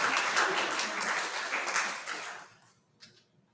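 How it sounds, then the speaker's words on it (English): Audience applause at a community service awards event, a dense steady round of clapping that tapers off over a few seconds with a last scattered clap. "Another round of applause for Wendy."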